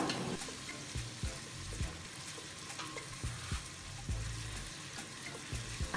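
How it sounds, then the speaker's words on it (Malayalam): Chopped large onion sautéing in hot oil, a steady close sizzle and fry with stirring scrapes and clinks of a spoon against the pan, no talking. "ഓയിൽ നന്നായിട്ട് ചൂടായിട്ട് വരുമ്പോൾ ഇതുപോലെ ചെറുതായിട്ട് അരിഞ്ഞു വെച്ചുള്ള ഒരു വലിയ ഉള്ളി ചേർത്ത് കൊടുക്കാം എന്നിട്ട് നന്നായിട്ടൊന്ന് വഴറ്റിയെടുക്കുക"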